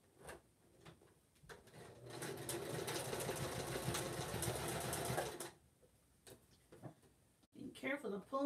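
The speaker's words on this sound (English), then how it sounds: "now I'm going to sew the mitten and the cuff and the liner all together" A sewing machine stitches together sweater mittens, cuffs and liners, a steady mechanical whir running for a few seconds between clicks and handling noises, with a voice speaking near the end.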